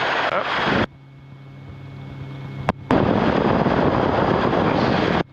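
Rotorway helicopter engine roaring loud and close during power recovery in flight training, a broadband rush that drops away briefly mid-clip before surging back to full strength, with an instructor's voice faintly beneath.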